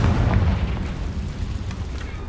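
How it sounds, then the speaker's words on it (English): Explosive Confringo and Bombarda spells in Hogwarts Legacy, heard as a low rumbling boom that swells at the start and trails into a sustained, dull roar with faint crackles. "Bombarda. Defendo. Confringo."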